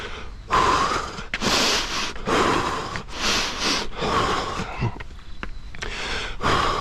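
A runner on a four-mile long run breathes heavily, with loud, close, rhythmic gasping exhales about once a second and short quieter pauses between them.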